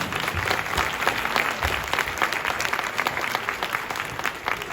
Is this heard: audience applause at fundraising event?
yes